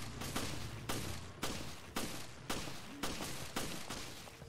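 Gunfire in the video game Resident Evil: Revelations, a steady series of about eight sharp shots at roughly half-second intervals, each cracking and then decaying, with no talk over them.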